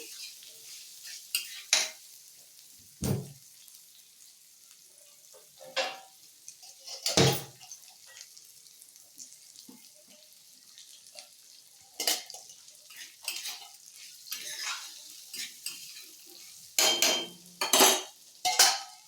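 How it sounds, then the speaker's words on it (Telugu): Salted pieces of Indian gooseberry (amla) being stirred in a pan, with repeated scrapes and clinks of a spoon against metal spread irregularly through the clip, plus a faint sizzle underneath; no talking. "ఇక్కడే ముక్కలకి సరిపడా ఉప్పు వేస్తున్నాను. ముక్కలు తొందరగా మగ్గిపోతాయి కదా. ఇలా ఒకసారి మొత్తం కలబెట్టుకొని"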